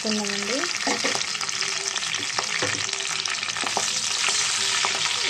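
Dried red chillies, cumin and mustard seeds frying in hot oil in a pan for a gongura dried prawn curry, a steady loud sizzle with a few stirring scrapes, close and continuous.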